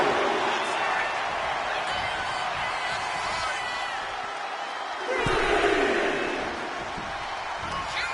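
An arena crowd in the WWE 2K25 wrestling video game roars steadily, swelling louder midway, under continuous commentary.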